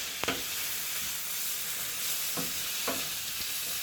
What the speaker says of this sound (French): Donc, on revient bien mélanger de temps à autre.